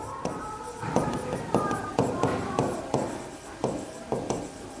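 Pen writing on an OMR answer sheet, filling in a college name: repeated short scratchy strokes and taps in a steady rhythm, close and moderately loud, with no talk over them.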